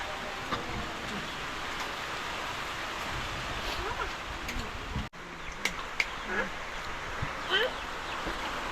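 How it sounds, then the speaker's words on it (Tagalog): Steady rain falls in a continuous hiss, with occasional drops and faint birdsong in the background and a brief dropout midway. "Umuulan na."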